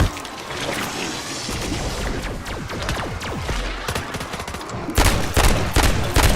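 Burst-fire weapon gunfire in MW3 Zombies, with dense rapid volleys of shots rattling continuously throughout and a louder, harder burst near the end.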